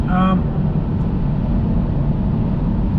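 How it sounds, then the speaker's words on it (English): Steady broadband wind and tyre roar inside an MG5 electric estate cruising on a motorway at about 115 km/h. The rumble is loud and even throughout, and a brief voice is heard at the start. "It's a bit of wind noise in there, and some tire noise"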